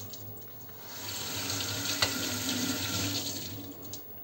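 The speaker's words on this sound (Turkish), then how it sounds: "Şimdi bir durulayım." Kitchen tap running steadily as a burnt pot is rinsed in the sink, a close, loud, continuous rush of water with a brief clatter from the pot.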